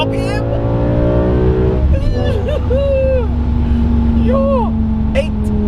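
A BMW 850i fitted with a V10 engine revs hard toward 8,000 RPM, a loud, rising mechanical howl with steady tonal harmonics climbing and shifting gears, while someone talks excitedly over it.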